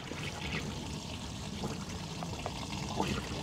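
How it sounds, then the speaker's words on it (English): Motor oil drains from a 5th-generation car during an oil change, a faint, steady pouring trickle of liquid that runs continuously, with no voices. "Here comes the oil. Out it goes. Spilling all over the damn place"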